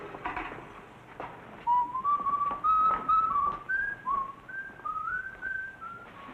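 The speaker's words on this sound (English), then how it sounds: "And he's whistling all night." A man whistles an old song in a quiet sleeping berth, a clear wavering melody of sustained notes rising and gliding, close and alone with faint background noise.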